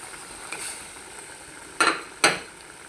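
Koi fish added to a hot pan with satkara rind and fried, two sharp clatters and bursts of sizzle near the end over a low steady crackle, close and fairly loud.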